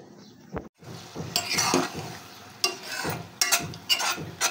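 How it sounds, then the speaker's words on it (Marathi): A ginger, garlic, green chili and coriander paste goes into a hot pan and is stirred. A soft sizzle runs under repeated scraping strokes of a spoon against metal, close and moderately loud, with no talking. "सो हे अद्रक लसूण मिरची कोथिंबीरचं पेस्ट मी याच्यात टाकते."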